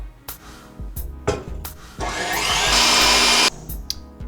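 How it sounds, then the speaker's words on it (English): An electric mixer whisks egg whites with cream of tartar: a few sharp knocks and clatters, then a loud, close, whirring motor runs for about a second and a half before cutting off. "I'm gonna whisk this up until soft peaks start to form."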